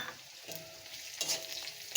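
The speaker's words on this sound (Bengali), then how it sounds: "পেঁয়াজের সাথে এটাও একটু ভেজে নেব।" Split green chillies, both fresh and ripe, frying with browned onion in a pan give a soft, steady sizzle with faint stirring scrapes, fairly quiet and close, without voices.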